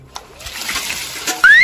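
Water splashes and sloshes in a few irregular bursts during a playful comedic water fight around a filled water trough, ending in a louder rush; a whistle-like rising tone appears near the end.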